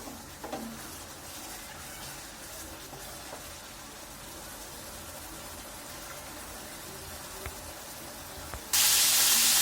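Chicken roast frying in a pan with homemade biryani masala being stirred in, a steady broadband sizzle and hiss throughout with faint scraping, ending in a sudden louder burst of spray-like hiss.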